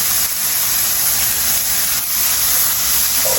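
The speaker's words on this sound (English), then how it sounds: "Okay, I'm gonna add the ham in." Ham sizzling in a pan for a Western omelette: a loud, steady, broadband hiss and crackle of frying fat that holds evenly throughout with no talking.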